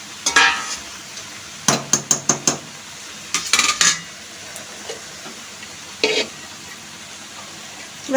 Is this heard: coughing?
no